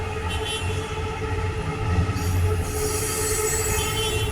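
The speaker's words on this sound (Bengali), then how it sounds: "ওই যে দেখেন একটা মেট্রো রেল যাইতেছে" A metro train rumbles past steadily with metallic wheel squeal and dense broadband noise, loud and continuous throughout.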